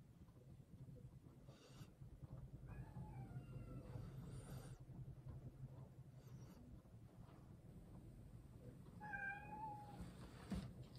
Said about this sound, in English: Oh, that's my cat. If you can hear him mewing in the middle.